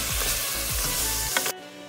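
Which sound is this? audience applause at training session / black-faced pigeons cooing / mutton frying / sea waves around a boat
mutton frying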